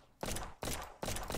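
Pistol shots ring out in a physics-based battle video game: three sharp, booming reports spaced evenly about every 0.4 seconds, each with a short ringing tail.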